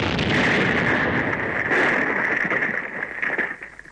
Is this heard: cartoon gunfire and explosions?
yes